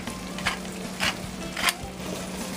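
Gnocchi with butternut squash and sausage stirred in a hot pan, a steady sizzle with three short scraping strokes of the spoon, close and moderately loud.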